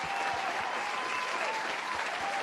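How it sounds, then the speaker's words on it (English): A clapping sound effect for a hero: a full, continuous crowd applause, dense and even throughout, heard alone at steady loudness. "We need clapping sounds for that hero."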